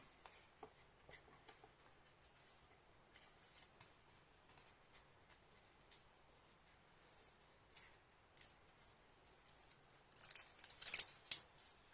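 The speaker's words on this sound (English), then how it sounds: "peel the backing paper off" Backing paper peeled off a part of a Titanic model kit for the boat deck, giving a faint, quiet crackle of small papery scrapes and rustles that build to a brief louder burst near the end.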